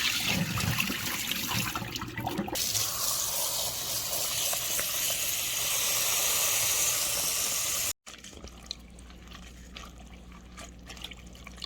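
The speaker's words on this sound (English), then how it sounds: "I'm going to change the water really quick." Water used to rinse chiles pours and splashes steadily for several seconds, then cuts off abruptly, followed by quieter trickling and handling noise.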